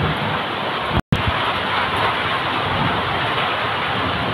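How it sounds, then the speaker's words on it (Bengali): Steady heavy rain pours down in a hailstorm, with light hail mixed in and runoff water rushing past. The downpour forms a dense, loud, continuous wash, broken only by a brief dropout near the one-second mark. "হালকা হালকা শিল পড়তেছে।"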